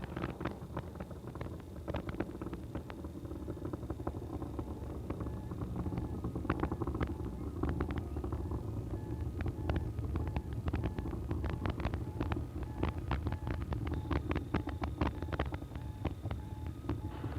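Space Shuttle Atlantis on the STS-44 launch, its three main engines throttling back: a continuous, dense rumbling roar with crackling texture that holds steady throughout.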